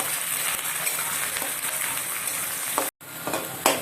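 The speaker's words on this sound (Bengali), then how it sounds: "এর মধ্যে কাটা পেঁয়াজ দিয়ে ভালো করে এটাকে ভেজে নেব" Chopped onions frying in hot oil for dal tarka, a steady loud sizzle with stirring scrapes throughout, close up, broken by a brief silent cut near the end.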